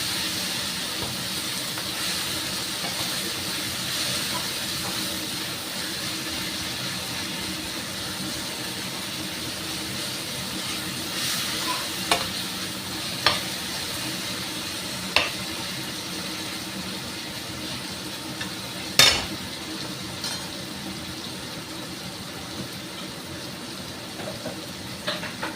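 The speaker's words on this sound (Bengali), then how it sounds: "একটু নামিয়ে এই মশলাটাকে একটু ভাজবো, মানে টমেটোটা একটু নরম করার জন্য আর কি" Spices and tomato frying in a pan over lowered heat for a ridge gourd curry, giving a steady close hiss of sizzling with a few sharp scraping clicks from stirring.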